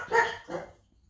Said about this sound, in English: every dog is barking at herself on the TV.